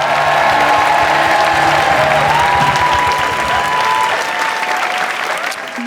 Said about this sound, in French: Faites un maximum de bruit pour Marie Desrolles,